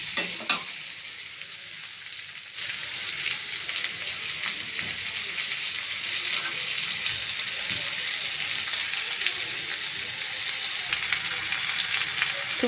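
Tomato drops into a pan of potatoes frying with onions; a close, continuous hiss of sizzling oil swells after the addition, with occasional stirring knocks.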